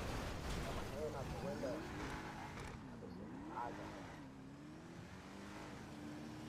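A car pulling away in the game GTA Online, its engine rising and falling in pitch as it revs through gears. The engine is fairly faint and runs under men chatting.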